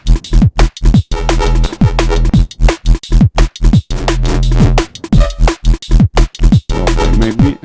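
A drum and bass loop programmed on an Elektron Model:Cycles groovebox plays fast, punchy kicks and snares with deep pitched bass hits in a tight, driving, repeating pattern.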